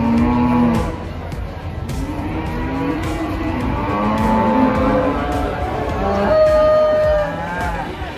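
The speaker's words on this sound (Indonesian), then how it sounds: "Ini sapi jantan. Dan ini jenisnya indukan sapi Simental Limousin." Simmental Limousin cattle at a busy livestock market, with repeated drawn-out moos from several animals close by over a constant crowded background din.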